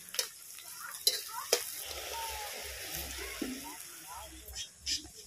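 Garlic and onion frying and being stirred in hot mustard oil for a bitter gourd, chickpea and potato dish, a soft steady sizzle with occasional scraping clicks close by, fairly faint.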